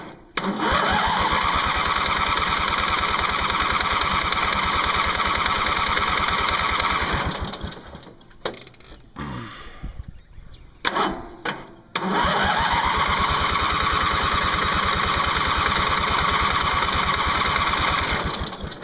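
An older tractor engine runs roughly for several seconds and then cuts out, followed by a few brief sputtering cranks before it catches and runs loudly again, all close by.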